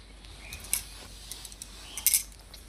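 A utensil stirs fried potatoes with sugar and turmeric in a pan, making quiet, scattered clinks and scrapes against the metal over a faint background hiss.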